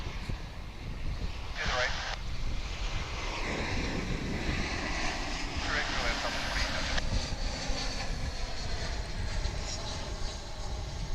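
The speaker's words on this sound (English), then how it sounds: "there's a Delta flight going out to Salt Lake City" A Delta airliner, a 19-year-old aircraft, taking off from DFW airport bound for Salt Lake City, a steady distant jet roar that builds gradually, with a voice talking over it.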